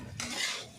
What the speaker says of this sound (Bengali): সমস্ত সবজি আর আলু দিয়ে সমস্ত কিছু মশলার সাথে ভালো করে মিশিয়ে নেব।